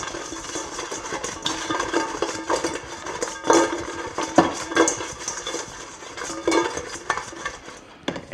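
Buffalo wings tossed with hot sauce in a bowl, a soft continuous clatter and wet stirring with occasional louder knocks against the bowl, close and steady without talk.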